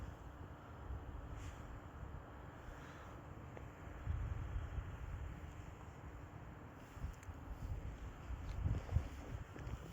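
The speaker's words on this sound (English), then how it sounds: "You can feel the wind picking up, blowing right in your face." Wind gusts during a snowstorm in South Carolina rush and buffet against the microphone, a low rumbling roar that swells in faint, uneven surges with no voices.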